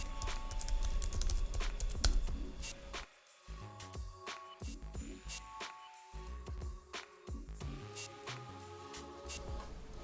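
Someone types a command on a computer keyboard, producing brisk, close clicks in quick bursts separated by short pauses.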